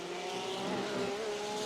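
Race car engines and squealing tires in the iRacing Arcade game, a steady high engine whine with shifting pitch running loud and continuous through the short stretch.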